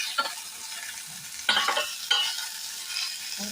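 Tofu and tempeh frying in a pan, a steady hiss of sizzling oil with sharper crackling bursts as pieces are stirred or turned, close and clear with no talk.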